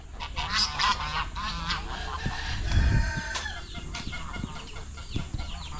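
Chickens cluck and squawk close by with overlapping calls, including a louder honking outburst in the middle, amid a busy farmyard.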